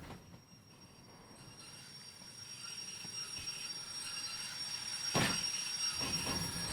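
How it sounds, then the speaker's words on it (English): A freight train in Derail Valley brakes with a rising rumble of rolling wheels and a sustained metallic brake whine, building in loudness until a sharp squeal bursts out near the end. "I can now start braking, and this train should clear the path"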